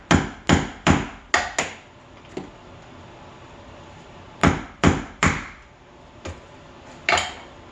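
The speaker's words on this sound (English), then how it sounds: "So we got our chisel, open this thing up. We're going to just take a little teeny tiny piece out of there." A chisel struck repeatedly to cut a tiny notch while stretching carpet, sharp close knocks in quick bursts of four, then a pause and another uneven run of blows.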